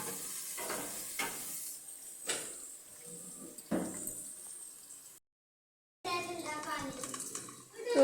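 Chopped onions fry in oil with a soft hiss and sputter, broken by clinks of a utensil and someone talking over it, with a short silent gap midway.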